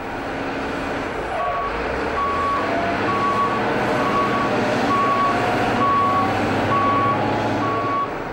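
Sand trucks and construction machinery rumble loudly and continuously at a building site while a truck's reversing alarm beeps in a regular evenly spaced series through the whole stretch, the engine roar ending abruptly.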